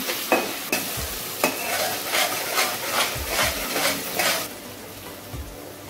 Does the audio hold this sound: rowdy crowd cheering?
no